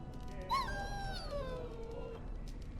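A single drawn-out, falling whimper from a dog in the Dragon Age: Origins video game, clear over a low ambient background.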